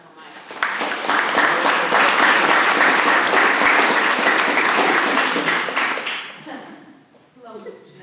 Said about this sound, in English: Clap it up for Mike.